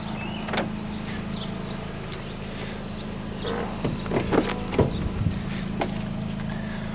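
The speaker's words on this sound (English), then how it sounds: "if I unlock the door" A faint electric whir followed by several sharp mechanical clicks and clunks of a Honda Civic's door lock unlocking, close by over a low hum.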